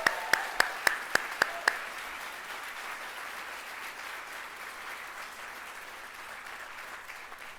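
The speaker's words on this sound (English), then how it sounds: "Let's give them a huge round of applause." Applause from the audience at the 2018 ISSF opening ceremony, a large hall filled with a steady, fairly distant wash of clapping, with a few sharp loud claps or knocks close by at the start.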